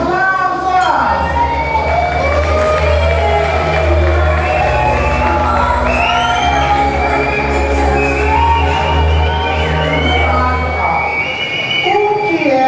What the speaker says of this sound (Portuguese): Outros aplausos!